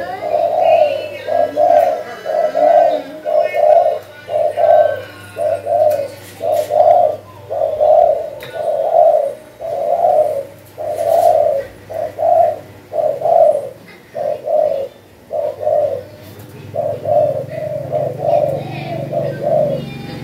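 Caged pigeons coo in a steady repeating rhythm, each soft throaty call following the last about a second apart, close and clear, while someone talks quietly between the calls.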